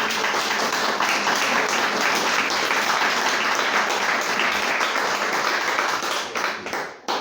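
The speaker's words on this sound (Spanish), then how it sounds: "¿Alguien puede dar un fuerte aplauso al Señor?" A church congregation applauding during a Spanish-language service, dense continuous clapping filling the room at steady volume for several seconds before thinning and breaking off near the end.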